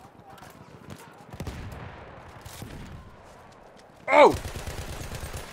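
A pistol fires in Battlefield 1 multiplayer as one sharp, loud shot bursts out near the end after lighter thuds of game action, and a player gives a brief exclamation.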